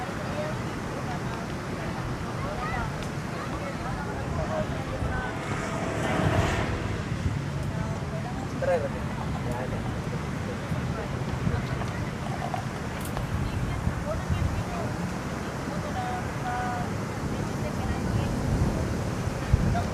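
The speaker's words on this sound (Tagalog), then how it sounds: "Ang hangin dito, ang presko." Steady wind rushes across an overlook high above a busy road, with low broadband blustering and microphone buffeting throughout, while people talk nearby.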